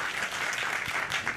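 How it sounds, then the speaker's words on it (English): A brief burst of dense audience applause at a Street View summit, many hands clapping together in a continuous, fairly loud wash. "please give yourselves a great round of applause"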